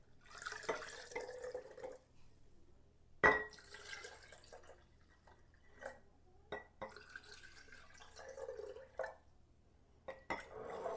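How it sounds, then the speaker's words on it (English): Water trickles and splashes into a glass pint jar of peppers in a kitchen, in faint bursts of pouring with gaps of quiet between them. "I'm gonna add water."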